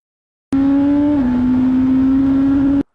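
A race motorcycle on the Donington circuit holds a steady, loud engine drone for about two seconds, with a brief dip in pitch as it shifts up a gear, then carries on alone.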